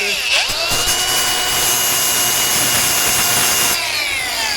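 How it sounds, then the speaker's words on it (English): A spot sander grinds down spot weld nubs on a new replacement Willys Jeep CJ2A body, a loud, steady, close whir running for several seconds that spins up at the start and cuts out near the end. "So I'm going to take his spot sander."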